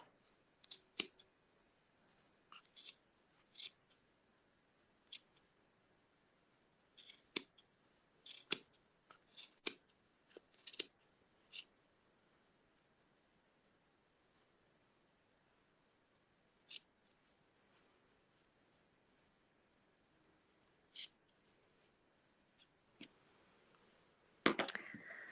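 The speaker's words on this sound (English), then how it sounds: "Ready for cutting open all the loops." Scissors snip open the yarn loops of a two-colour half-and-half pom pom. Sharp, close cuts come in irregular bursts over a quiet background, sparser near the end, with a rustle of yarn as it finishes.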